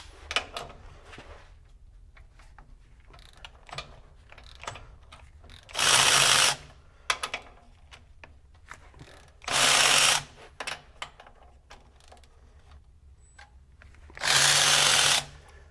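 A Milwaukee M12 FUEL brushless cordless ratchet clicks steadily as it is turned by hand to break a torqued bolt free. Three loud bursts of motor whir cut in between the clicking, heard close up and with no talking.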